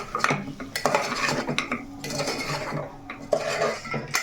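A metal spoon stirring chili powder into mutton curry in a pot, with close scraping and clinking against the pan in an uneven rhythm and a faint sizzle beneath.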